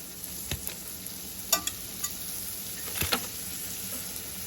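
Butter sizzling in a skillet of tender cooked vegetables for a turkey pot pie, a low frying hiss broken by several sharp spoon taps and scrapes against the pan, nearby.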